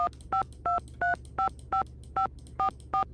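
Nine crisp keypad tones ring out in the Nancy Drew game as a phone number is dialed, evenly spaced beeps about a third of a second apart, clear and alone over a faint hum.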